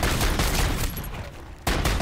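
Pistol fire in Modern Warfare Zombies, loud and dense with rapid overlapping shots and a chaotic rumbling background, a short pause, then the firing starts again.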